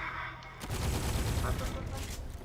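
Bursts of gunfire from a shooting video game pile up into a dense, continuous volley from about the midpoint onward, fairly loud and close. Excited speech runs over part of the clip.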